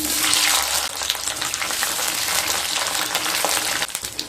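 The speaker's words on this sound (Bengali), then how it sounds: "এবার ওই তেলের মধ্যে 8-9 পিস পটল ভেজে নেব।" Eight or nine pieces of pointed gourd (potol) fry in hot mustard oil with a dense, steady, close sizzle that carries on unbroken throughout, with no voices.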